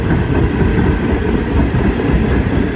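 Boxcars of a northbound Norfolk Southern mixed freight train, many of them CN cars, roll past close by in a loud, steady rumble with continuous clatter and no voices.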